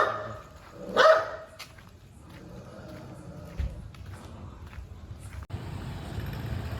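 A dog barks once nearby on a road at night around 10 o'clock, followed by distant street noise and a passing vehicle.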